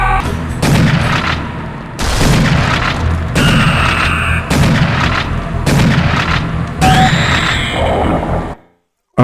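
Heavy gunfire booms from the first Serious Sam game arrive as repeated loud blasts roughly every second or so, dense and echoing, before cutting to a brief silence at the end.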